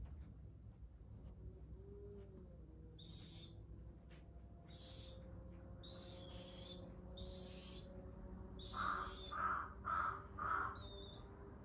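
A young feral pigeon calling, a series of short soft repeated notes in a quiet setting, a few spaced calls followed by a quicker cluster of four, faint against low background hum.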